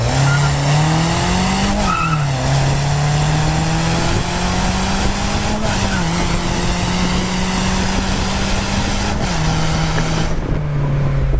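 Loud exhaust of a Renault Sandero RS with a 145-horsepower engine and 4-track exhaust roaring steadily, its pitch climbing through several gear changes before dropping off at the end, with no voices.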